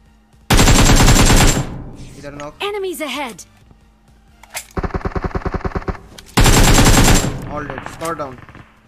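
Automatic gunfire from a PUBG battle comes in loud, close, rapid bursts: one at the start, a choppier rattling stretch in the middle and a final burst. A voice speaks excitedly in the gaps between bursts.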